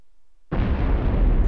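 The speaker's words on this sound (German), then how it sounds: "Blaue bewirkt langsam brennenden Lichtschein, harmlose, aber laute Explosion." A loud, harmless explosion set off in the video game C-12 Final Resistance: after half a second of quiet, a sudden broad blast hits and keeps rumbling at full strength to the end, with no talk over it.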